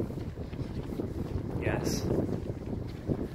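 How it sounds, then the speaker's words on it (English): Wind buffets a microphone outdoors in Islington, London, giving a steady low rumble and gusting roar beneath a person talking throughout. "I've probably just realised that it's quite windy here"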